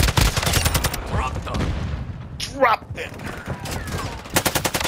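Rapid automatic gunfire in a Call of Duty-style shooter, loud bursts of rattling shots opening and closing the stretch, with a sparser middle where someone talks over the firefight.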